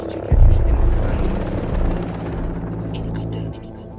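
Enemy helicopter in the tactical shooter Ghost Recon Breakpoint: a loud burst of deep whirring rotor rumble sets in abruptly and then drones on, fading slightly, before cutting off near the end.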